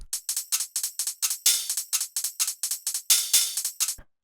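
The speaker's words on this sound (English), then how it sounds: "And then we have these different background hi-hats," A crisp deep minimal tech house hi-hat pattern ticks along in a steady, rapid rhythm, with a few brighter open accents, playing alone before stopping abruptly.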